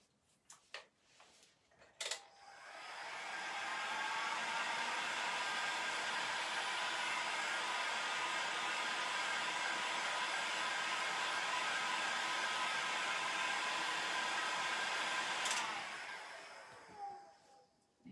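A heat gun blows hot air onto a wood U-bend moulding for an oak bar shelf: after a few clicks and knocks it switches on to a steady, loud, broadband roar held for about twelve seconds, then winds down amid more handling sounds.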